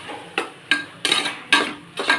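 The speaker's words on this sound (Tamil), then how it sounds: "நல்ல பச்சை வாடை போகிற அளவுக்கு வதக்கிக்கலாம்" A ground paste of coriander, mint, tomato, shallots and green chillies sautéing in a pan for chicken biryani, with a handful of sharp spatula scrapes and stirring clatters over a soft frying hiss, no talk.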